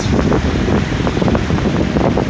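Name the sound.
strong wind on a bridge over the Murray Canal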